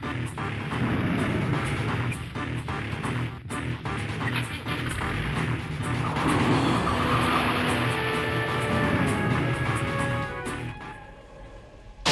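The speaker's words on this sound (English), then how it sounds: "Surprise, it's a car chase with an angry Triceratops." A car chase in the video game Dino Crisis 2, with an angry Triceratops in pursuit: loud, continuous engine roar and skidding tires, holding steady before easing off briefly at the end.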